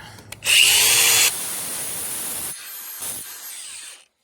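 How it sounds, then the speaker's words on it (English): Angle grinder biting into a metal fence part, a loud harsh whine that starts abruptly, holds for under a second at full intensity, then drops to a steadier lower grind with a brief flare before cutting off. "now pull it out a little bit so I can grind it"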